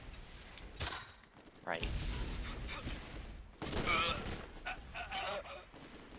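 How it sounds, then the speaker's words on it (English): Borderlands gunfire from a weapon that fires two shots at once: a few loud, broadband bursts of shots spaced a second or two apart, with a voice speaking briefly between them. "So it fires 2 shots at once."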